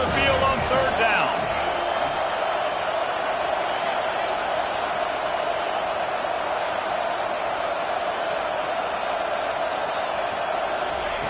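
Home crowd cheering at a college football game in NCAA 25, a steady loud roar of fans that rises briefly at the start and then holds, with a voice talking early on.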